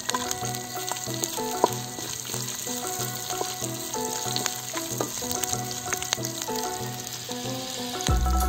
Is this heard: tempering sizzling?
yes